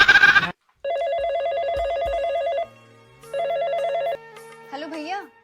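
A telephone rings in a repeating electronic trill, sounding in two bursts with a short gap between them, then a brief warbling tone at the end. A voice speaks briefly at the start.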